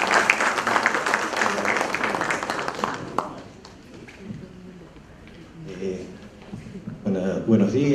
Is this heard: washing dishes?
no